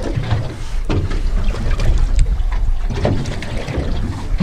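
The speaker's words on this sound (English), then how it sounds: "It's quite nice that breeze has picked up." A fresh breeze gusts and buffets steadily around a small fishing boat out on the water, with low rumbling wind noise and lapping water filling the scene without pause.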